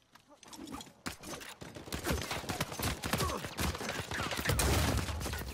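Gunfire in the video game Uncharted 4: dense, continuous volleys of sharp shots and impacts crackle throughout, forming a busy, loud firefight.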